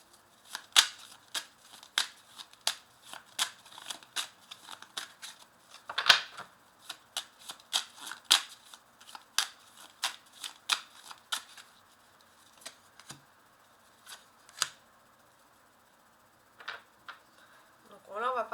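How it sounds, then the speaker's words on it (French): Lenormand fortune-telling cards are laid out and handled on a surface. They give a scattered series of sharp, light snaps and flicks at irregular intervals, close by and fairly quiet. "je vais rajouter un petit Lenormand, voilà, sous chacune des cartes"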